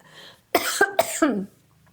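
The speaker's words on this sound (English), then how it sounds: "Anytime I cough like that out of the blue" A single person coughs close up, a harsh burst of several rapid hacks lasting about a second, with quiet before and after.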